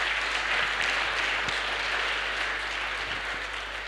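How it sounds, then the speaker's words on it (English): Applause at a digital public infrastructure summit, a broad, steady patter of many hands clapping in a conference room that slowly fades toward the end, with a low constant hum underneath. "You can clap your hands if you want to."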